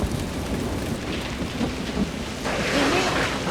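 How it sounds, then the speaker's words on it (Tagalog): Heavy rain pours steadily outside while thunder rumbles, and the downpour swells louder toward the end. "Ang lakas ng ulan sa labas!"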